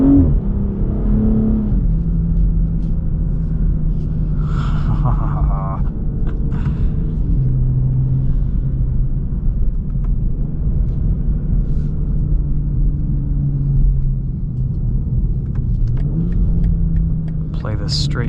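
A BMW 840i xDrive Gran Coupe's straight-six engine, driven in winter, pulls through a steady low rumble that rises and drops with gear changes, heard from inside the cabin with no talking.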